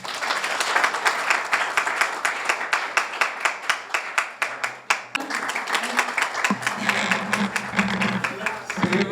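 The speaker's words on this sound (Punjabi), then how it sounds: "ਜ਼ੋਰਦਾਰ ਤਾਲੀਆਂ।" Loud audience applause at a Punjabi-language gathering in Canada honoring Iqbal Mahal, dense clapping that swells, briefly thins, then resumes strongly, with a voice faintly under it.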